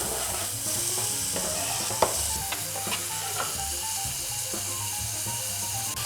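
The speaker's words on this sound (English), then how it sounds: "Put a bit of olive oil or oil, whatever you want. Let it heat up a bit. Onion in." Chopped onion dropped into heated olive oil for a savoury crepe filling, a strong steady sizzle and hiss with a few faint clinks and stirring scrapes, close and continuous, no voices.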